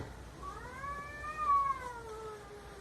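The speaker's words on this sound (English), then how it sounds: "Now a fucking cat is crying." A cat cries indoors with a long, wavering caterwaul that rises and then falls away, a single drawn-out call standing alone against a quiet background.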